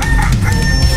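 A rooster crows loudly and close by, one sustained strained call filling the whole moment, with no other sounds over it.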